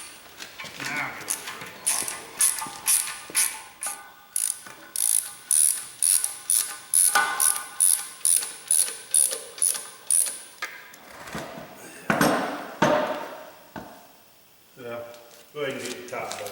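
A ratchet wrench clicks in rapid, steady bursts while tightening the top bolts on a Super Stock race car build, with people talking nearby and a pause before more ratcheting.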